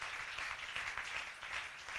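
A church congregation at an evangelism campaign applauds in acclaim of Jesus, a dense, steady wash of clapping that fills the space throughout with slight swells.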